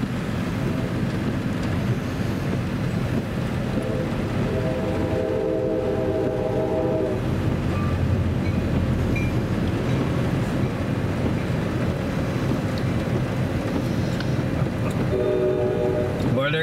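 CSX light locomotive move heading north at Fort Branch, Indiana, rumbling past loudly with a horn blowing in a couple of sustained blasts, the second near the end.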